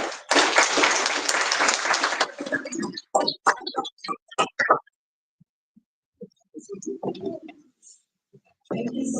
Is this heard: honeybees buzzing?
no